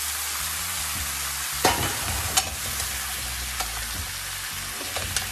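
Mushrooms, bell pepper and shallots fry in a hot pan for vegetable rice noodles, a steady close sizzle broken by a few sharp stirring clacks and scrapes.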